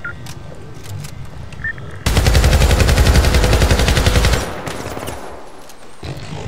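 A loud, rapid burst of automatic gunfire from the video game Syndicate (2012) rattles for about two seconds, framed by quieter game ambience before and after.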